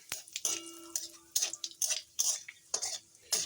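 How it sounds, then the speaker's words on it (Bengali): A metal spatula stirs and scrapes in a wok as panch phoron, dried chilli and bay leaf fry in oil, giving a series of close, uneven clinks and scrapes over a faint sizzle. "এখন এই যে কড়াইতে পাঁচফোড়ন দিয়ে দিলাম শুকনো লঙ্কা"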